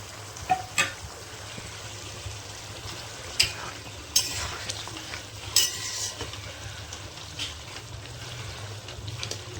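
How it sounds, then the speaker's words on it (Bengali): Stuffed pointed gourds fry in a pan of spice masala, giving a soft, steady sizzle with a few scattered clinks and stirring scrapes from a utensil, all fairly quiet. "এবার পুর ভরে ভেজে রাখা পটলগুলো আমি অ্যাড করে দেব।"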